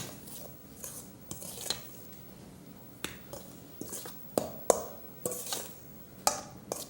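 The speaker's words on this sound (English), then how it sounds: "Garlic powder, stir it in" Garlic powder being stirred into a mixture for a fried oyster dish: a spoon scrapes and clicks against the bowl in irregular sharp taps and strokes, close and fairly clear, with no talk over it.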